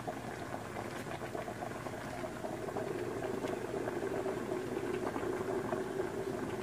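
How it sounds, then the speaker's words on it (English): Paksiw na bangus, milkfish in a vinegar sauce, simmers in a covered wok with a soft, steady bubbling that stays faint and even throughout. "And we're going to let it simmer again for another 20 minutes."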